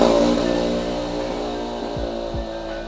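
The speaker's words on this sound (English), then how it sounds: "Sorry, got motor. Very noisy." A motorcycle or similar road engine passes close by, loud at first and slowly fading with a couple of quick revving swells near the end.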